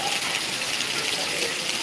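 Torrential monsoon rain in Khambha, Gujarat, streaming down with water gushing in a constant, even hiss that stays steady and close for the whole moment, with no clear break.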